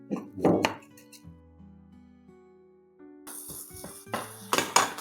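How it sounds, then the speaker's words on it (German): Dry flakes rustle and scrape inside a pot, with a few light clinks and quiet gaps between bursts of stirring. "das rösten wir jetzt immer ganz vorsichtig hier im Topf, in der Pfanne an"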